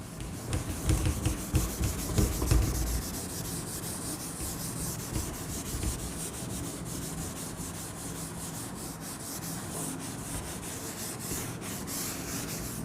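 A board is rubbed clean during a Hindi-language classroom lesson, producing a continuous scratchy rubbing that is busier and louder at first, then settles into a steady faint swish.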